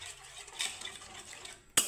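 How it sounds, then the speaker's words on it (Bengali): Yogurt being stirred with masala in a pan over a low flame: soft scraping and wet stirring strokes close by, ending in a sharp clink of the spoon against the pan, with no talking. "এখন আমি একটু মশলার সাথে দইটাকে সুন্দরভাবে নাড়িয়ে চাড়িয়ে মিক্স করে নেব"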